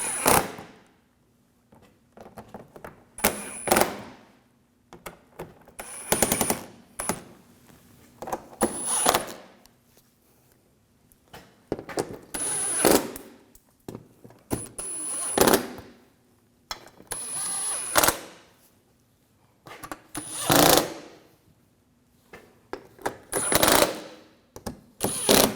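A power tool drives screws into the front bumper inserts of a 2007-2013 BMW 328i in short repeated whirring bursts with quiet gaps between, close and moderately loud.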